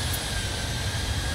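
Transavia PMDG Boeing 737-700 airliner taxiing at Paris Orly airport in Microsoft Flight Simulator, heard as a steady, continuous jet engine rumble and hiss with a constant low drone, no talking over it.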